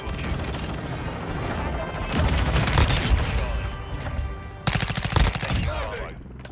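Chimera assault rifle fire in Call of Duty: Modern Warfare II, rapid automatic bursts with sharp cracks and booms, loud and close, with a player talking over parts of the action.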